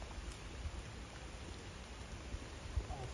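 Heavy rain falls steadily across a nature park, a dense, fairly quiet patter with a few louder drops standing out near the end.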